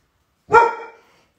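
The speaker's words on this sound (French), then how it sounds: "c'est le chien qui s'y met." A single dog bark, loud and close, sounds once in a home kitchen during rhubarb tart baking, then fades quickly into silence with no voices present.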